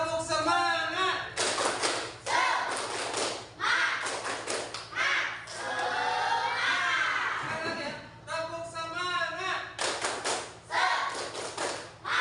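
A primary school class does a rhythmic clapping ice breaker, with bursts of loud patterned claps and taps from many children together. Shouted group voices run between and under the claps in a lively classroom.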